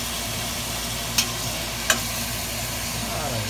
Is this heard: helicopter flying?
no